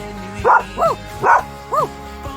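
A dog barks four times in quick succession, close and loud, each bark short and yelping with a steady rhythm.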